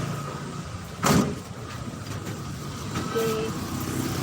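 A car door thuds shut once inside a vehicle, a single firm impact over a steady engine and road hum, with a faint brief beep following.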